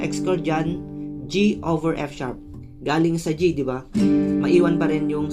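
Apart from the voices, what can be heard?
No everyday noise stands out behind the speech.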